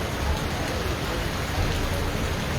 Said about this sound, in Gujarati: હવામાન વિભાગની આગાહીને પગલે આ વરસાદ વરસી રહ્યો છે